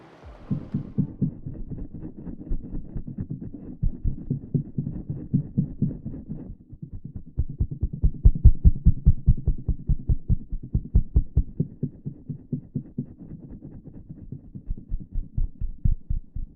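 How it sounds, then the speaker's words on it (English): Low-frequency vibrations of an old bridge in Iceland, picked up by a LOM Geofón geophone. Dense rhythmic low thumps pulse in uneven waves, swelling and fading, with no talk. "we just stopped here on this incredible old bridge and we recorded more with the Geophone"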